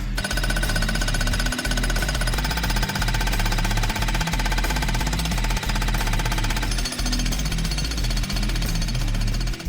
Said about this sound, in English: I can jackhammer that slab out.